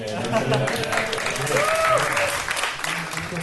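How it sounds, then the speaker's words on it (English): An audience at a drum clinic applauds a drummer, a dense, sustained wave of clapping filling the room while people talk and cheer over it. "you should clap for him way faster than you clap for me"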